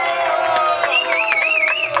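Team supporters at an autumn scout-style gathering contest cheer, shout and clap as a crowd, loud and sustained, with children's voices and an adult speaking over the noise.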